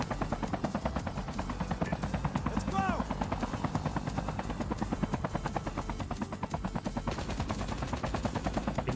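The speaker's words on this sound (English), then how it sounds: "but shooting the chopper again" Call of Duty Mobile battle royale match with a helicopter's rapid rotor chop running throughout and bursts of automatic gunfire firing at it, fast and loud, while a voice talks over the action.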